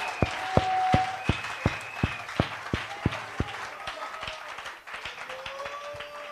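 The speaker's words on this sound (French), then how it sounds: "applaudissons pour les Oh, acclamons le Seigneur" Sharp, evenly spaced hand claps ring out in a steady rhythm during a church service, backed by a soft sustained musical tone.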